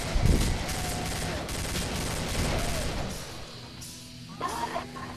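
Shotgun blasts in the video game Killing Floor, a sharp burst near the start followed by a dense clatter of gunfire and game action, with a short later flurry.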